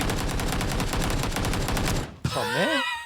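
Rapid, steady AK rifle bursts rattle continuously during a video game esports match, loud and evenly paced for about two seconds before cutting off, followed by a sharp crack and brief ringing tones.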